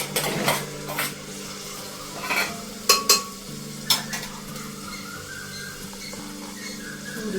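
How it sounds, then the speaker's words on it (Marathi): Green mung beans go into a hot pan of roasted spices, sizzling softly while a spoon scrapes and clinks against the pan in quick, close stirring strokes. "याच्यामध्ये आता आपण हिरवी मूग घालूया।"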